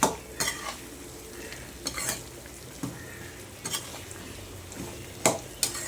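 Eggplant chutney is stirred in a pan on the stove, a utensil scraping and knocking in uneven strokes over a light, continuous sizzle.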